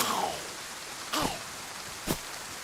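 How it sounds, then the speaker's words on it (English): Continuous rainfall in the video game DayZ, set in Chernarus, forms a soft, even wash of noise, broken by two short sharp taps. "The rain is covering up the sound of my footsteps."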